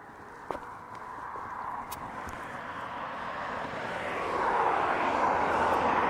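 A blue, white and red airliner approaching to land at East Midlands Airport, its steady engine roar swelling gradually louder over several seconds, heard from the ground with a faint thump near the start.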